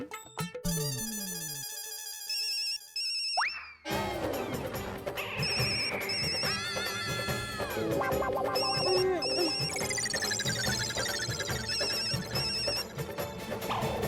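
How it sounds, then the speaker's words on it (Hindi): An electronic phone ringtone plays a bright, repeating melody, loud and continuous, with a brief break near the start before it resumes. "इतनी रात गए कौन फोन कर रहा है?"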